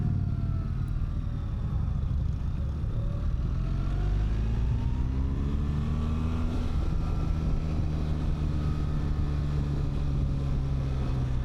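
A 2026 BMW R 1300 GS Adventure motorcycle accelerating in Dynamic Pro mode under automatic shifting, engine note rising and climbing through gears beneath steady wind noise, with no talk.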